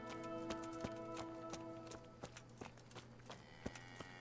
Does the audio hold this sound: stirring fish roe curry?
no